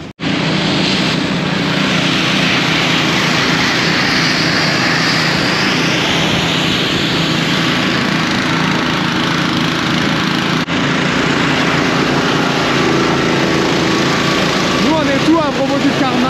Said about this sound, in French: La moto fonctionne bien